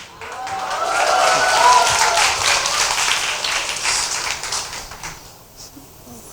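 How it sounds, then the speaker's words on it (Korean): A studio audience at an interview show with Seoul mayor Park Won-soon breaks into clapping that swells, holds for several seconds and then tapers off, with some voices mixed in. "박수 치는 거 보세요"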